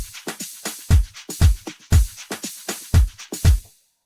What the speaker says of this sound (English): So another hi-hat